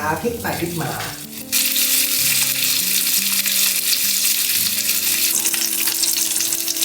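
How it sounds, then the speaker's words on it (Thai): Pork ribs fry in oil in a pan over low heat, a loud, steady sizzle that bursts in after a brief clatter and keeps crackling evenly to the end. "นำซี่โครงหมู ไปทอดด้วยไฟอ่อน"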